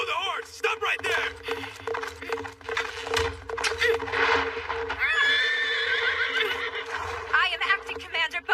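Horse neighing in an English-dubbed anime, loud whinnies with clip-clop hooves over a music and effects bed, with dubbed voices talking throughout.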